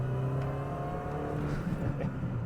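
Front-wheel-drive car accelerating, a steady close engine hum rising slightly in pitch with a smooth droning whir and no talk.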